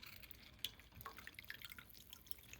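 Lemon juice from half a lemon squeezed by hand drips in small, quick, faint drops into a cup of hot water for tea, with no talking.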